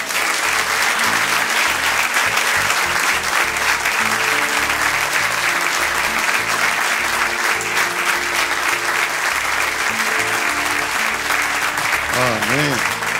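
Church congregation gives long, loud, even applause filling the room for over ten seconds, with a voice surfacing briefly near the end.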